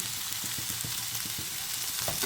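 Chopped onions with a little salt sizzle steadily in a pan for a chicken patties recipe, a constant hiss broken by soft, irregular taps of stirring, close and moderately quiet.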